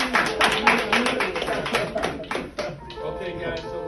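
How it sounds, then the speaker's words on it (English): Eighth-grade students applaud a guest speaker after a classroom talk, a burst of close, crisp clapping that fades after a couple of seconds as a voice begins speaking. "Let's give Jeff a round of applause."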